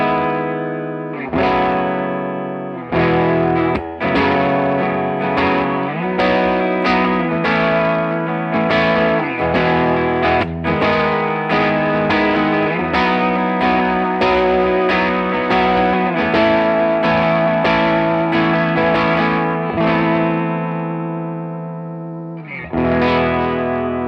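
A Chase Bliss Audio Warped Vinyl analog pedal on its right-side preset colouring a steady stream of chords and notes with wobbly, chorus-like warble and distortion, loud and continuous, with brief pauses near the start and end.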